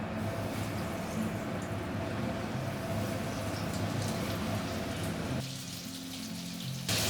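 Chicken pieces sizzle in hot white oil in a wok for KFC-style fried chicken, a steady close hiss and crackle that runs for several seconds, then dips and softens briefly near the end.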